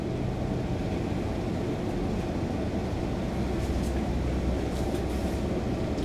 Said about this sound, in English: hear you above that generator going off